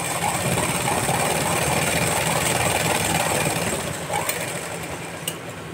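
A sewing machine stitches the side seams of a blouse, running as a steady, continuous mechanical hum and whir close by, with no talk over it and a faint tick near the end.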